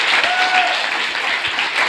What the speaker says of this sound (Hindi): हमारे मेंटर मनीष पटेल सर के लिए जोरदार ताली चाहता हूं मैं